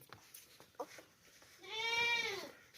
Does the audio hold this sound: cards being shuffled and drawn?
no